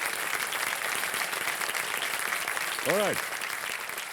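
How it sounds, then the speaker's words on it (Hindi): Studio audience applauding a young quiz show contestant on a televised game show, steady broadband clapping throughout with a brief tonal sweep near the end and a voice speaking over it. "तालियां बज जाए इनके लिए जोरदार।"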